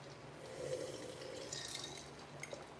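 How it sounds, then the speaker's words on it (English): Water for cooking macaroni running and splashing faintly, a soft continuous trickle with a few small clinks of glass or pot, close by and quiet, with no talking. "Cook the macaroni in salted water."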